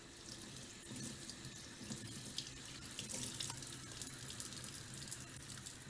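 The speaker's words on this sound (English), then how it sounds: "Look how dirty that water is coming out." Steady running tap water splashing into a sink while rinsing a Shark Stratos vacuum filter, a continuous close-up gush with small splatters and no voices.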